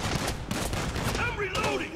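Gunfire in a GTA 5 LSPDFR police shootout, with rapid, crackling shots in quick bursts over a busy background, fairly faint and with a voice faintly present.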